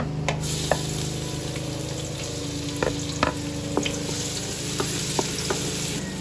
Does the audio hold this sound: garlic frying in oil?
yes